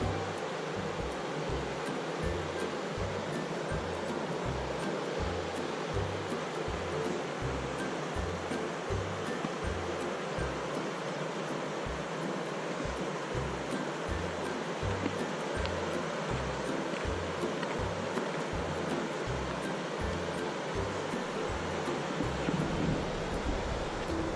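Stanislaus River at Knights Ferry rushing steadily past, a constant broadband roar of fast water with wind buffeting the microphone, no pauses throughout.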